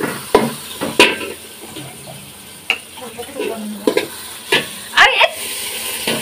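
Spices and food sauté in a pot, with a soft sizzle running beneath repeated scraping stirs and sharp clanks of a utensil against the pot's side.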